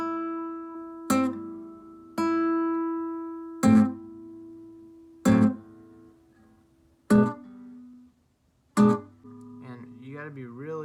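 Guitar notes plucked one at a time at a very slow, unhurried pace, each ringing out and decaying into a pause before the next, ending with a softer wavering tone.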